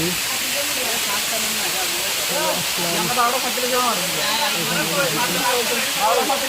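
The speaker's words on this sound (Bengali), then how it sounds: "চলে আসলি ঝর্ণার নিচে, ঝর্ণার ইয়া অনেক সুন্দর দেখা যাচ্ছে।" A waterfall at Mohamaya Eco Park pours in a steady broadband rush, heard from close below the falls, while a voice talks over it throughout.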